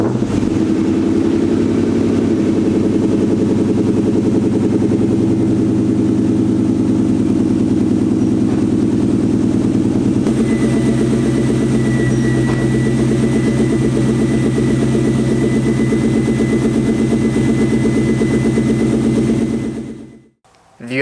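A Mustang GT engine fitted with BBK shorty headers idles loudly and close, a steady low rumble that shifts in tone partway through before cutting off at the end.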